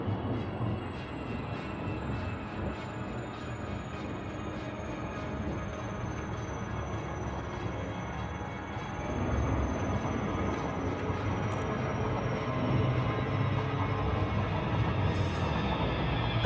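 Steady droning roar of an Imperial Cutter spaceship engine in orbital flight in the Elite Dangerous game, continuous and loud, with a faint high tone gliding slowly downward and no talking.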